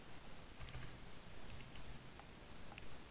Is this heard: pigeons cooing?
no